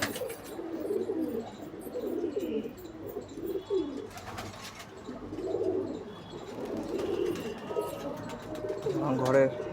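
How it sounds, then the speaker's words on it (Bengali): Breeding pigeons coo in low, rolling phrases at close range, repeating through the whole stretch with a few soft chirps, while a voice speaks over them at times. "এটা আমার ব্রিডিং পায়রা।"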